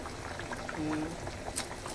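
Chicken kadai curry simmering in a pan, a soft bubbling and popping at close range with faint clicks, fairly low in level over a short stretch.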